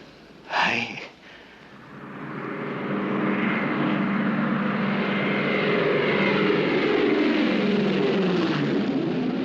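Trans-Australian Airways airliner arriving, its engine roar swelling steadily and staying loud and near, after a brief sharp vocal burst at the start.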